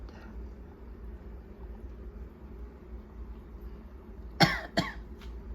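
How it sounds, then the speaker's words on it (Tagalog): A person coughs twice near the end, two sharp close bursts over a low steady background hum. "Inuubo ako."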